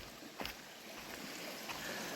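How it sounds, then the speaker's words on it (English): A small stream on a state park trail flows with a soft, steady rush and faint trickling, quiet and continuous with a couple of brief splashy accents. "I just find a stream."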